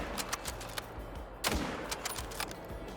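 Single rifle shot fired at a roe deer while hunting in a video game, a sharp crack near mid-clip standing out over a quiet outdoor ambience with faint scattered clicks.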